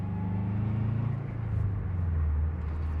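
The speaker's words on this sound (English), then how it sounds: "I can downshift to second gear, let the clutch out again, and then I can start to accelerate" A manual car accelerates after a downshift to second gear, its engine a low steady rumble that rises gradually in pitch, heard from inside the car with no talk.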